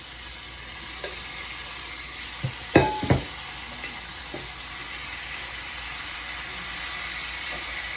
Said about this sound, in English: So let's go and add our cleaned veggies.